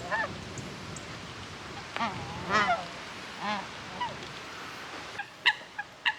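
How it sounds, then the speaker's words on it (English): Geese honk at a wetland nature reserve, scattered calls over faint outdoor ambience, with a cluster of sharper calls near the end, moderately distant. "Even more geese here as well."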